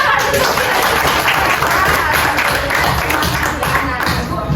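A class of schoolchildren claps hands together in a classroom during a teaching session, a loud busy burst of clapping mixed with some crowd murmur and voices.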